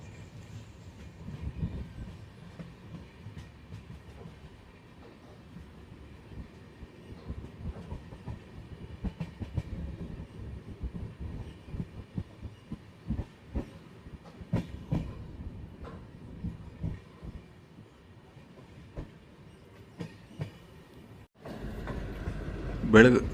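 The Rani Chennamma Express at Chinchali, on the Bangalore to Miraj line, as a DEMU passenger train bound from Miraj to Belagavi crosses it: continuous wheel clatter and rumble that swells sharply louder in the final seconds.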